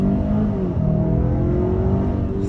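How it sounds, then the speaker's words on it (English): A 2022 Kia Sorento SX 2.5-litre turbo AWD accelerating hard, a loud, steady engine drone climbing gradually in pitch from inside the cabin, with no talking. "it just takes off. Such a fast SUV."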